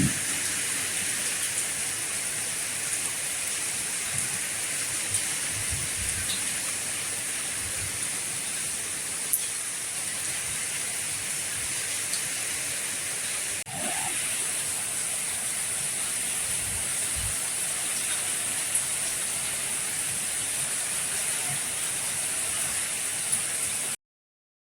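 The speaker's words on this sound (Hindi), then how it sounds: "बारिश हुई है और खूब रज के जम के हुई है।" Rain falls steadily as an even, hissing wash that continues unbroken for the whole stretch, with a few faint knocks in the background and no voices.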